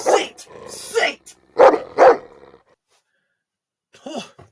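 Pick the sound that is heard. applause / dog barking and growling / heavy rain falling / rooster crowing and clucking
dog barking and growling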